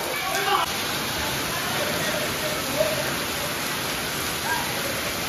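Heavy monsoon rain pours during a Dahi Handi festival gathering in Panvel, a dense, steady hiss filling the whole stretch with faint crowd murmur beneath.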